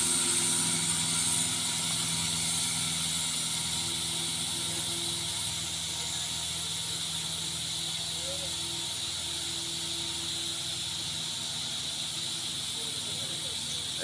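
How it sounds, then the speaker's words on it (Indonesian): A diesel Colt truck engine drones constantly with a low hum and a broad hiss, holding steady and unchanging for the whole stretch. "Nampak suara mesin begitu mengaung."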